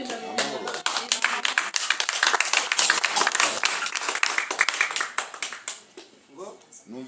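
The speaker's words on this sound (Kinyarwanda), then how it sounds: "numvise amashyi avuga mu kanya" A small group at a home Christmas gathering claps in a quick, uneven burst of applause close by, fading toward the end while voices talk over it.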